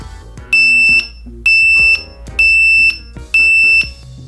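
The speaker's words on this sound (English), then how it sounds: "So this is like a microwave or a smoke alarm." An ESP32 active buzzer sounds four shrill, piercing beeps at an even rhythm, each about half a second long, resembling a smoke alarm, loud and close with brief gaps between.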